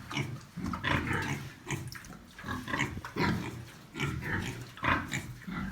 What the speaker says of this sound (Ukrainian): Та не хрюкай Зольда